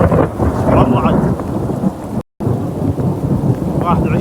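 Heavy rain and hail pound steadily in the open desert between Qurayyat and Turaif, with a constant loud roar and low rumbling thunder beneath, briefly cut by a moment of silence.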